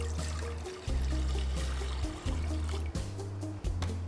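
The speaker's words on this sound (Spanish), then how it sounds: "Primero vamos a depositar agua en nuestra cacerola" Water is poured into a saucepan, a steady low trickle broken by a few short pauses, close and fairly quiet, with no talk.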